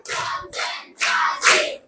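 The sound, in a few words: children clapping hands, fourth count of a clapping chant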